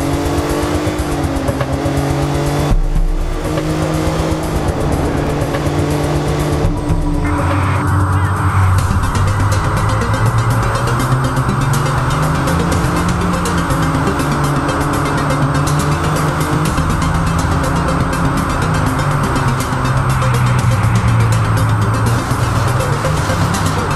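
A yellow car drives in Watch Dogs on PS5, its engine droning and shifting pitch as it accelerates, loud and close, with a tonal layer and a brief dip early on.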